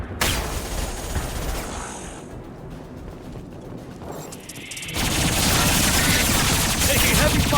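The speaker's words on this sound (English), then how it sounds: "Taking heavy fire!" Gunfire in a Mass Effect 2 battle on Tuchanka, dense bursts of automatic fire and impacts filling the scene, easing midway and then returning loud and sustained to the end.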